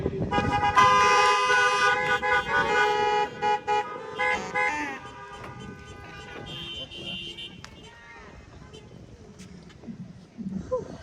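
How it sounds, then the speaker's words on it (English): Several car horns honk together in a loud, sustained chorus at a drive-in high school graduation, tapering into scattered toots with a voice speaking faintly beneath. "it would probably be best if we honked our horns instead of clap"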